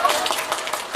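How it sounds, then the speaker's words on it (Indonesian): An audience claps hands during a presentation, a brisk run of rhythmic, fairly close claps lasting about a second, with a hint of voice underneath. "Artinya kalau tepuk tangannya ikhlas."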